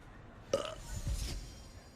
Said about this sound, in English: was that us burping?